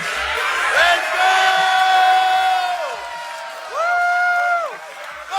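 A high school crowd cheers and whoops in two long bursts, rising and falling voices shouting together, loud and close, with a pause between.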